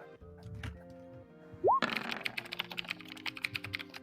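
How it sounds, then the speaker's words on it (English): Rapid, crisp clicks of typing on a computer keyboard patter unevenly in a steady stream, close and fairly quiet, preceded by a short rising synthetic blip. "Is this what my keyboard sounds like?"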